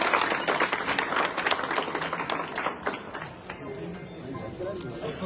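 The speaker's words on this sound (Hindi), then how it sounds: "जोरदार तालियां कृष्णा सर के लिए" Loud audience applause and clapping for a speaker, Krishna sir, at a motivational event, dense and steady at first, then thinning slightly, with crowd chatter mixed in.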